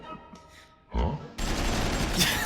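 Cartoon machine-gun fire from Astro Boy's butt guns, a short loud burst of rapid shots breaking in after a quieter stretch and sustaining to the end.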